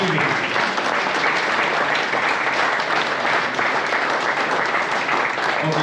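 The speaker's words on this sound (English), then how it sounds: "Let's have a nice round of applause." A crowd claps loudly and continuously for several seconds at the opening of a Corvette showroom in Glasgow, Scotland, dense sustained applause filling the space.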